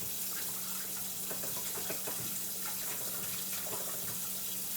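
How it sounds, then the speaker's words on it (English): Tap water runs steadily into a kitchen sink during hand washing while homemade salmon croquettes are prepared, a continuous close splashing hiss with faint clinks and no talk. "wash my hands again"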